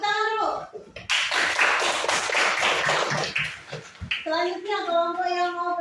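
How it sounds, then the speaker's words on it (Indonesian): Classroom applause from a group of students, a burst of dense hand clapping lasting about three seconds, set between stretches of speech. "Tepuk tangan dulu."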